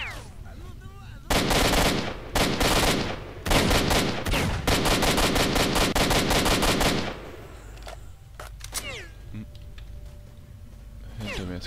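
Long, loud bursts of automatic gunfire in the shooter game S.T.A.L.K.E.R. Shadow of Chernobyl, close and sustained for several seconds with brief gaps, then fading to quieter sounds and a faint voice.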